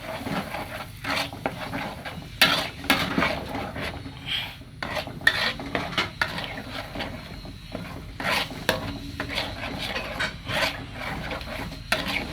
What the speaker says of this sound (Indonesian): yang sudah dihaluskan tadi kita masukkan ke dalam minyak yang panas